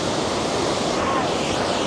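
Steady, dense roar of Iguazu Falls on the Brazilian side, a continuous broadband rush of heavy falling water with spray and wind noise, loud and unbroken throughout.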